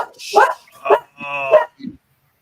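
A dog barks several times in short, close bursts, one drawn out into a whiny yelp, before falling quiet.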